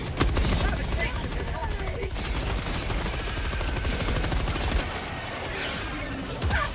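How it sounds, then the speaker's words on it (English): Dense, continuous machine gun fire from a sci-fi shooter about liberating planets, rattling loud and close for most of the stretch with a few heavier bursts, other game noise layered underneath. "Machine gun here."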